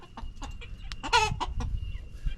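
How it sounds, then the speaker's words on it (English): Chickens clucking in their coop after someone has been inside, several short close clucks and squawks in an uneven burst with one louder cackle in the middle, alone without talk. "the chickens know that someone's just been in their cage"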